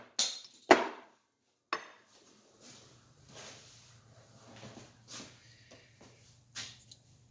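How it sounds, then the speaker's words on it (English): Piston of a Graco 390PC airless paint sprayer pump being tapped down during a rebuild: a few sharp metallic knocks near the start, then quieter scattered clunks over a low steady hum. "Now we're going to tap the piston down."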